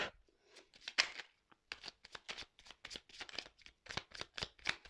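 Oracle cards are shuffled close up in quick, riffling bursts of papery flicks and slaps, continuing steadily and fairly quietly with no talking.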